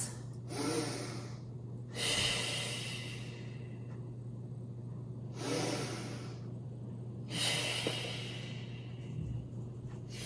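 Deep breathing during a Pilates mat hold, four slow breaths in and out, close to the microphone and alone over a steady low hum.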